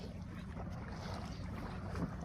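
A river trawler's engine drones faintly and steadily from on board, blended with wind and water noise, with no other sound standing out.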